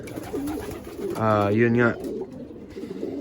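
Young Jansen Van Loon racing pigeons coo inside a loft in Texas, one clear rolling coo up close, with someone talking quietly around it.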